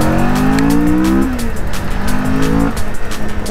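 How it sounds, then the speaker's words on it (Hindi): Kawasaki Vulcan cruiser motorcycle engine on a test ride, loud and close, revving up through a gear then dropping pitch at a shift before climbing again. "तो भाई वल्कन की टेस्ट राइड ले रहे हैं।"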